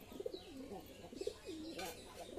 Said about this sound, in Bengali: এই যে একটি কালো পায়রা তারপরে এই যে বুলুমুখী বুলুমুখীও ডিম দিয়ে দিয়েছে